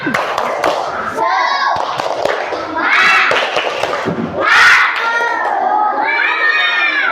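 A group of fourth-grade children clap and chant together in a rhythmic classroom cheer, with bursts of shouting voices and hand claps throughout.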